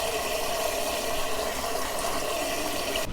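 Tap water pours steadily into a pot of black beans being prepared for canning, a continuous rushing fill that stays loud and unbroken before cutting off at the end.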